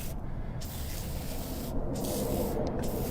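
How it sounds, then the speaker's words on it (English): Penetrating spray hisses onto the studs of a master cylinder on a junkyard Chrysler in several short bursts separated by brief pauses, close and fairly soft. "Let's go ahead and spray those studs."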